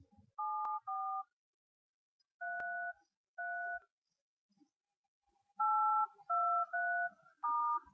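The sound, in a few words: telephone dialing tones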